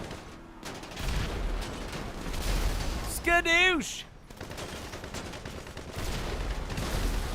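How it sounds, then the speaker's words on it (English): Gunfire pelting a tank in GTA Online, bursts of rapid shots crackling on and off across the scene, with a voice briefly shouting an exclamation in the middle. "It would take them forever to put a dent in this tank with those gunshots."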